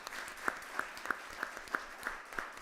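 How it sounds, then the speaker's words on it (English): Sparse audience applause at a community economic opportunity event, a handful of distinct claps spaced evenly at a moderate distance in a quiet room, with no talk over them. "Give him a hand."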